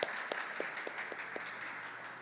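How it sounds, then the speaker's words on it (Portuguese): A church audience applauds the participants of a balloon game for a couple of seconds, with a few distinct claps standing out from the steady clapping. "uma salva de palmas para os nossos participantes"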